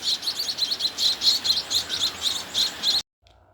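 Rescued baby birds chirp close up in rapid, repeated high-pitched peeps, a busy rhythmic string of calls that stops abruptly, leaving near silence.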